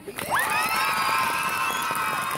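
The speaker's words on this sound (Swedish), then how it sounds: "Hur låter den högsta applåden ni har?" A live audience at a warm-up session at Ekeby in 2016 bursts into a loud, sustained roar of cheering and high-pitched screaming after a quick rising whoop, filling the space without letting up.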